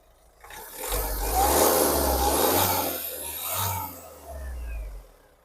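A Mahindra XUV300 W6 from 2022 revs its engine in bursts as the accelerator is pressed, the sound swelling and easing in three or so pulses, close and fairly loud with no talk over it.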